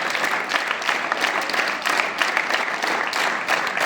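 A group of people clapping their hands together, a dense and steady patter of many claps kept up evenly for a few seconds, close and fairly loud.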